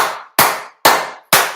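Four sharp, loud hand claps at an even, deliberate pace, each ringing briefly before fading, close by with nothing else heard.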